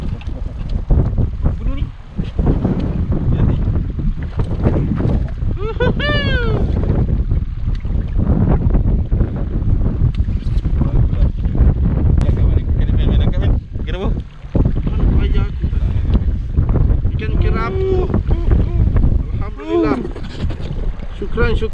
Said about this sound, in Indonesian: drifting angin memang kuat gila